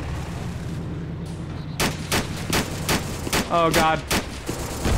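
A half-track vehicle is hit by gunfire in a video game and explodes, heard as a quick series of loud bursting blasts and rattling shots after a quieter stretch, with a voice calling out briefly.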